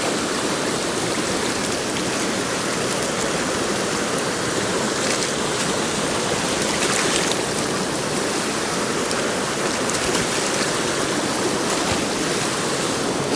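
Fast-flowing mountain stream in the Pennsylvania mountains rushes in a steady, loud, dense wash of water, constant and close throughout with no voices.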